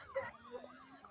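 Police sirens wail in a video game as squad cars chase the player's vehicle, a wavering electronic tone gliding up and down, moderately loud, with a low engine-like hum beneath and no speech.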